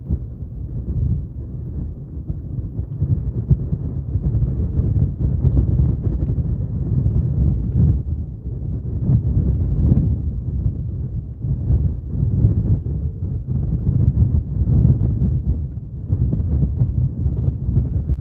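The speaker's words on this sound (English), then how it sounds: "right now, this feels like low wind." Steady moderate wind during Tropical Storm Ernesto in Simpson Bay, St Martin, a continuous low rumbling roar with gusty swells and buffeting against the microphone, heard alone without voices.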